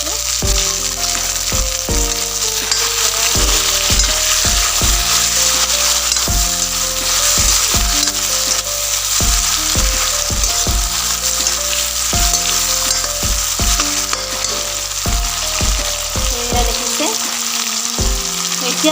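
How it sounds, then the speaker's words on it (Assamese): Chopped tomatoes are added to browned onions in a pan for an Assamese pui shak dish, frying with a loud, steady sizzle that runs throughout under a continuous music track. "এতিয়া মই প্ৰথমে মই বিলাহীখিনি দি দিম তো এয়া দেখিছে কাটি থোৱা বিলাহীখিনি মই এনেদৰে"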